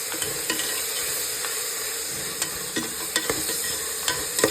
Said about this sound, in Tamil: அரைச்சி வச்ச கொத்தமல்லி, பூண்டு, இஞ்சி அந்த விழுதை வந்து நம்ம இதில் சேர்த்து நல்லா வதக்கிக்கணும்